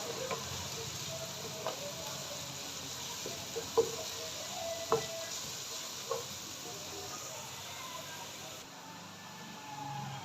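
Onion with garlic-ginger paste fries in a pan as a soft, steady sizzle with a few faint clinks and taps, heard close and quiet with no talking.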